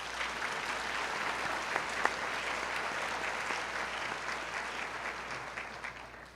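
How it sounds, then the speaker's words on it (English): Banquet audience at a 4-H awards of excellence dinner applauding tonight's winners, a steady, moderately distant round of clapping filling the room without pause. "Let's give all of tonight's winners another round of applause."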